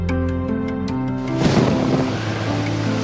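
A storm in a cartoon about a mother cat and kittens brings a swelling rumble of thunder over steady rain, rising in the middle of the short stretch and fading slowly, with no talking.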